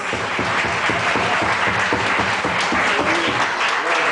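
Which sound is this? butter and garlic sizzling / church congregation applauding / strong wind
church congregation applauding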